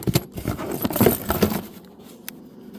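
A bunch of keys jangling as they are handled in a storage unit, a dense close rattle of metallic clinks for about two seconds, then fading to a few faint taps.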